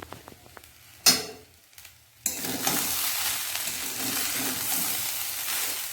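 Chicken pieces being reheated and stirred in a pan: a few spoon scrapes and clinks against the pan, then a steady, close sizzle of frying that carries on to the end.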